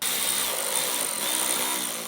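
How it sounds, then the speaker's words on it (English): Power drill fitted with a 3/32 bit boring a pilot hole while a towed-vehicle tail light wiring kit is installed on a 2023 Jeep, giving a steady high whine that runs loud and unbroken for about two seconds. "with the 3/32 drill bit, we'll just go ahead and make a pilot hole here"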